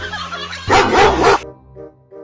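A dog lets out one loud, harsh bark that lasts under a second, close and clear, with quieter background sounds before and after.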